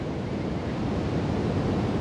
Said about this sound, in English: as the waves are coming in and out towards the shore